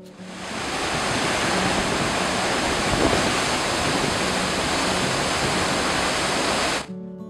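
The Athirappilly waterfall in Kerala pours with a loud, steady, unbroken roar of rushing water that holds evenly throughout and then cuts off abruptly at the end, with no voices.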